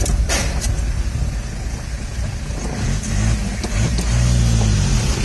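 A car engine revs while driving, a loud, close, low rumble under road noise that swells and falls, with rising and falling engine tones in the second half.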